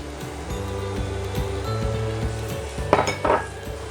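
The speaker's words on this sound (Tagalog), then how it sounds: "Ilagay na natin yung onion." Onion added to a pan of garlic for a king prawn curry pasta sizzles steadily, with a few clinks of utensils against the pan near the end.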